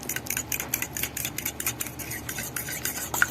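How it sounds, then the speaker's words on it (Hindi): A fork beats a mixture in a bowl with quick rhythmic scraping strokes, a fast steady series of close metallic swishes and clinks. "फोक की मदद से थोड़ा सा बीट करेंगे अच्छे तरीके से"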